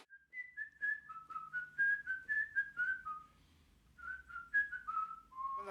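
Someone whistles a simple wavering tune alone, clear and fairly soft, with a short pause midway before carrying on.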